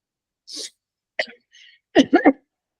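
A few short coughs in near silence, ending in a quick cluster of three throaty coughs.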